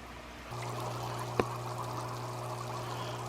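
An inexpensive Feeder Supply aerator bubbles steadily in a container of worm tea, a soft continuous low hum and fizz at close range, with one brief click partway through and no talk.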